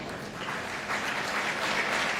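Sold-out crowd applauding at a PBA bowling tournament in the Twin Cities, a dense, steady wash of clapping that swells slightly toward the end, with no voices over it.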